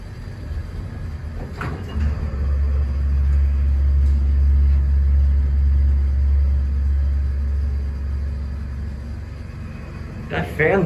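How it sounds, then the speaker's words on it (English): An older Esco elevator's fan produces a steady low droning rumble that swells and holds for several seconds inside the dark cab, with brief clunks near the start and end. "That fan's making a weird sound."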